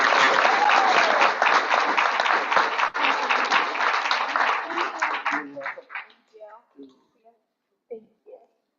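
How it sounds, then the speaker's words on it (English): Applause for a varsity team at a Board of Education meeting, a loud round of clapping that fades out after about six seconds, followed by a few scattered voices talking nearby. "Let's give this team another round of applause."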